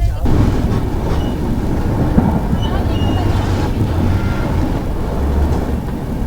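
The 22912 Howrah–Indore Shipra Express, an Indian passenger train, runs at speed. Inside the coach a steady, dense rumble and wheel clatter fill the whole stretch, with faint voices under the noise.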